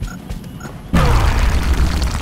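A grenade goes off in the strategy video game XCOM, a single sudden loud boom with a crashing, rumbling tail after a quiet moment.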